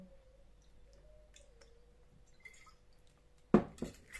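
A little fish sauce poured into a pounded noodle dish, a quick wet splash and a couple of drips near the end after a quiet stretch with faint clinks.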